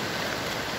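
Swollen Lempa river in flood, rushing water carrying branches along; a steady, dense broadband roar fills the short stretch evenly, close and continuous with no talk.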